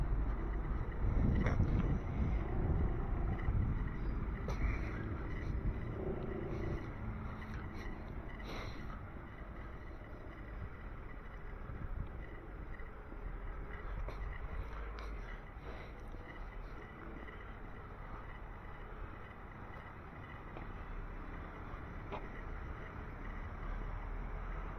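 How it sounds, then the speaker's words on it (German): Wind buffeting a microphone outdoors on a walk through vineyards near Klingnau, a steady low rumble that is strongest at the start and then eases to a continuous muffled roar. "Und jetzt haben wir wieder Wind."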